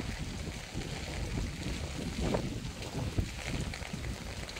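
Strong wind buffets the microphone with a steady roar and rumble, broken by occasional louder gusts; no clear voices.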